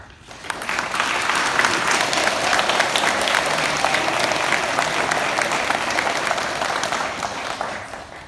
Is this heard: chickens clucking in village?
no